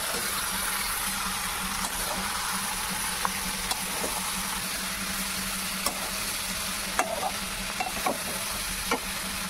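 A cumin and coriander spice mix is stirred into meat cooking in a pan, with a soft continuous sizzle beneath a scatter of sharp scraping clicks from the spoon that grow more frequent toward the end.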